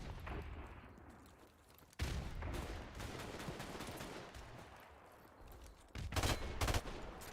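Rapid bursts of gunfire from Call of Duty: Modern Warfare Remastered, dense automatic fire rattling continuously with a sharp loud flurry near the end, fairly quiet overall with no talking.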